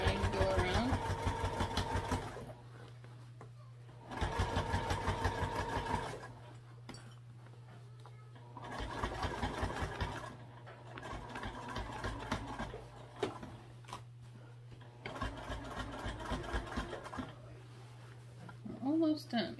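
Domestic sewing machine stitching through thick layers of backpack fabric, running in several bursts of steady mechanical whirring separated by pauses, with a constant low hum underneath and a person talking throughout.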